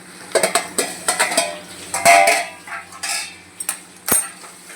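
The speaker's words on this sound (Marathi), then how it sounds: "आता आपण याला परत चांगलं व्यवस्थित असं हलवून घेऊ" Besan and capsicum sabji being stirred in a pan with a metal spoon, giving a run of scraping, clinking strokes at an uneven pace, close and fairly loud, with no talk.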